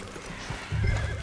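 Horses in Red Dead Redemption 2 give a short whinny over hoof clip-clop, close and fairly loud, a brief burst without talk.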